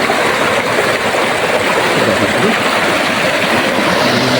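Loud, steady rush of flowing river water, a dense continuous roar close by with no voices.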